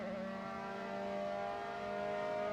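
Formula 3 race car engine in a sim racing championship at Silverstone, a sustained high-pitched whine held hard on the throttle, steady and fairly distant with no talk over it.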